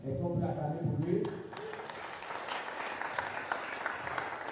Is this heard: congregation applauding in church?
yes